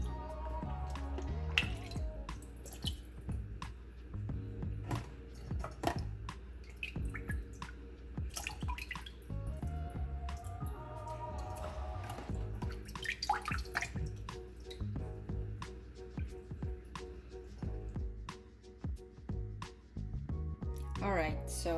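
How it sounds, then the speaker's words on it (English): Water drains out of soaked dried sea cucumbers from Costco, dripping and splashing irregularly into a sink, close by, with a person talking over it throughout. "let's dump out all the remaining water inside the cavity"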